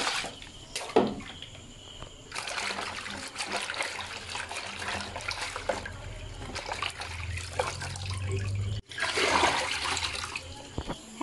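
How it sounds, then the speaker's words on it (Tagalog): Tap water runs and splashes steadily while kangkong (water spinach) is washed in a kitchen, with a trickling, gurgling flow that briefly cuts out before surging back strongly. "hugasan na natin ang ating nakuhang kangkong"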